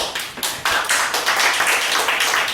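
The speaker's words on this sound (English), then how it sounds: "give it a applause for that" A room audience at a business talk claps in a dense, lively burst of applause that carries through the whole stretch, loud and close, with no speech over it.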